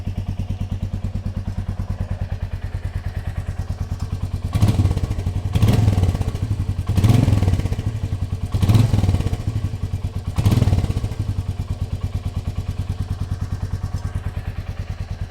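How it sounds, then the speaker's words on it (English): A Royal Enfield Meteor 350 motorcycle engine idles close with a steady, even thumping beat, swelling into five short revs in a row before settling back to idle. "when I switched on the motorcycle"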